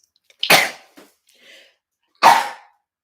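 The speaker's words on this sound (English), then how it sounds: "I think I'm going to sneeze." Two sharp, loud sneeze bursts about two seconds apart, with a faint breathy sound between them, close to the listener.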